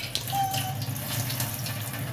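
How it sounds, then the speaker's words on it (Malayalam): An open kitchen tap runs steadily at home while dishes are washed, giving a soft, even rush of water from start to finish with no voices. "ഞാനിവിടെ വെള്ളം തുറന്നു വെച്ചിരുന്നു, മറന്നുപോയി."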